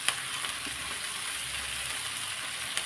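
Tender chickpea leaves drop into hot oil and sizzle, a bright, continuous frying hiss with a few soft pops and stirring scrapes, close and alone.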